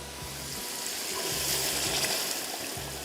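Yakhni stock poured into a pot of rice for Sindhi yakhni pulao, giving a soft, steady liquid pouring and splashing sound with a few low knocks of the pot.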